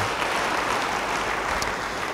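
Loud, dense clapping from a church congregation during a sermon, a continuous close roar of many hands with no voices over it, steady for about two seconds.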